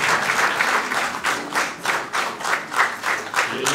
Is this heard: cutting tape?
no